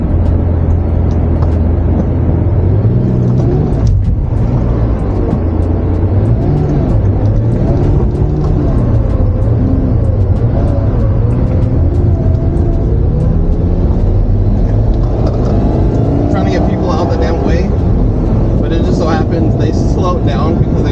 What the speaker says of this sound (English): we're going through all this gravel